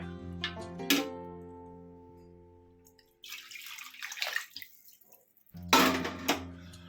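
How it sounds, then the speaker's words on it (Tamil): Water splashes and pours into a cooking pot in short bursts while making mint pulao, separated by ringing metallic tones and quiet pauses, close up with no talking. "இப்போ நம்ம இந்த அளந்து வச்சுருக்கிற இந்த தண்ணியை இதில் ஊற்றிடலாங்க"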